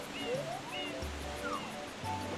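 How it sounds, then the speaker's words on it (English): In the Super Mario Sunshine video game, Mario lands in a waterfall, and a soft, steady rush of falling water runs faintly beneath short game chimes and tones. "I landed right in the waterfall."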